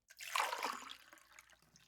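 Water is poured briefly for a drink in a quiet, close-miked indoor setting, giving a soft splash and trickle that fades within two seconds.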